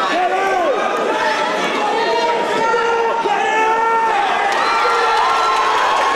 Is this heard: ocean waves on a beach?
no